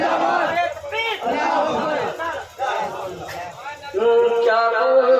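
Crowd roars back in unison, shouting in repeated loud waves after a takbir call at a Naat Sharif gathering, with raised voices surging and dipping over a few seconds.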